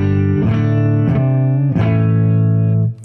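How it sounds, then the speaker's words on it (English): Neck pickup of a PRS Custom 22 electric guitar played through a Matamp GT20 set clean: three loud strummed chords ring out in steady succession, sustaining before a quick fade, with no talking. "And here's the neck pickup."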